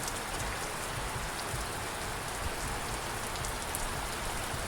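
Steady heavy rain in a thunderstorm pours down close by, a dense continuous hiss of drops drumming on surfaces with no pauses and no voices.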